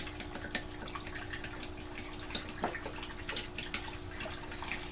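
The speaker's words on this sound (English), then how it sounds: "Stick it in there and stir it up real good." A paintbrush stirs diluted school glue in a jar, making a continuous wet, sloshing swirl with small drip-like splashes, close and fairly quiet, with no voices.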